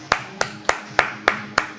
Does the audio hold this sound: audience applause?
yes